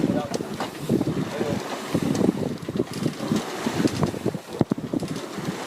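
A sailboat under sail in the Netherlands, with strong wind buffeting the microphone and water rushing along the hull, a continuous gusty roar while someone talks over it.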